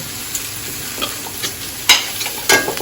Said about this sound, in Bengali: লাল মরিচের গুঁড়ো দিয়ে দিলাম, জিরের গুঁড়ো দিয়ে দিলাম, ধনিয়া গুঁড়ো, হলুদের গুঁড়ো দিয়ে দিলাম, এবং নুন দিয়ে ভালো করে কষিয়ে নেব।